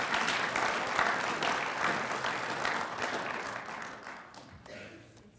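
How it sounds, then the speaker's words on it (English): An audience at a university research lecture applauds, dense clapping at moderate loudness that gradually thins and fades over several seconds. "How about a round of applause for Amanda Jones and her important work?"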